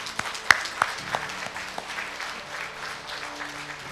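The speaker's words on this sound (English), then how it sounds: "Let us give them all a round of applause." An audience at an international forum applauds, a continuous patter of many hands clapping at moderate volume, with a few sharper claps standing out near the start.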